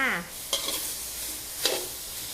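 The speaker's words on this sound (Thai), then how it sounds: "กระทะล้างใหม่ๆ เลย เสร็จแล้วเทซี่โครงหมูใส่ลงไปเลยจ้า" Pork ribs hiss and sizzle in a freshly washed wok, with two sharp scraping stirs cutting through the steady close frying sound after a brief voice at the very start.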